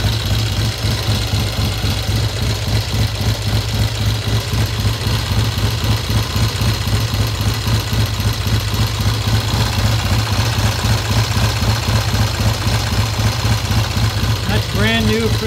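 A 1972 Triumph motorcycle engine idles steadily up close, with a rough, even thrum throughout and a brief faint tone near the end.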